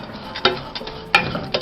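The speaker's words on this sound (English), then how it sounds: "Just keep stirring constantly" A spoon scrapes and stirs oil in a pot over low heat, with a faint sizzle underneath and a few sharper clinks against the pot in an irregular rhythm, close and alone.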